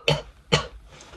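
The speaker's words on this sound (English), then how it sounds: "Ew, I have a monster cough." A person coughs twice, close and fairly loud, the two short harsh bursts about half a second apart, followed by quiet.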